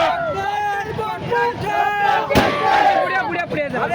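BJP party workers celebrating an election win in Lohara taluka, a loud crowd of voices shouting and chanting together outdoors, with rising whoops and one sharp bang partway through.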